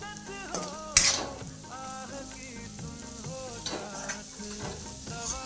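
A cooked vegetable dish is stirred in a pan with crushed peanuts and coriander, with steady sizzling and scraping over a faint tonal background.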